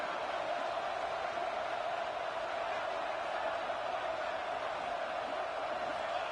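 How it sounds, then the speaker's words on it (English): Deafening stadium crowd roar in a College Football 26 game at a tense two-point try, a constant loud wash of cheering that never lets up. "this crowd is deafening, trying to will the stop"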